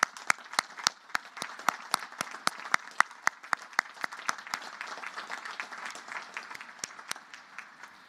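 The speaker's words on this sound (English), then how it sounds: "let's have a big round of applause for Colonel Ripley" Audience applause at a Naval Academy commissioning ceremony for a colonel, heard as sharp, evenly spaced individual claps standing out over a softer bed of crowd clapping, steady for several seconds.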